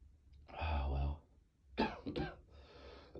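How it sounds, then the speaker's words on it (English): A person with a cold and sore throat gives a harsh throaty cough, then after a pause two more sharp coughs in quick succession, close and fairly loud. "I'm sorry for the coughing."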